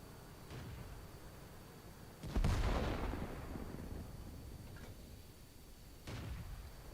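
An artillery shell from a World of Tanks match slams into a tracked Jagdpanzer tank destroyer on the small map Ensk: one heavy, booming impact with a long rumbling decay, followed later by a fainter distant thud.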